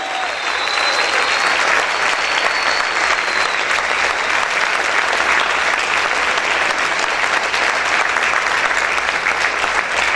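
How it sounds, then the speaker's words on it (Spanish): A church congregation applauds loudly and steadily, a dense, sustained wash of clapping filling the room for about ten seconds without letting up. "Aplaude fuerte al Señor."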